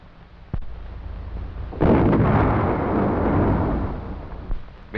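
Bridge demolition blast set off by army engineers in a 1940 Canadian training film, a deep booming rumble that swells abruptly and rolls on for several seconds over a muffled, lo-fi soundtrack, after an earlier sharp thud.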